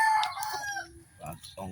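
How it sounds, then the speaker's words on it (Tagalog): Freshly bathed chickens with a rooster crowing once up close, loud and clear, followed by short clucks; someone talks faintly in the background. "Oh, presko itong mga manok guys."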